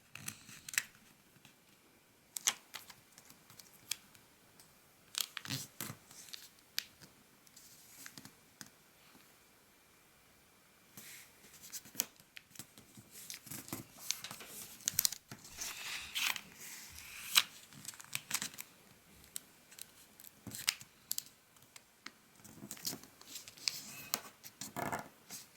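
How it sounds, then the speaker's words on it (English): Paper folded for origami, with crisp creasing, rustling and sharp handling snaps near and intermittent, separated by quiet pauses. "fold each side to the center"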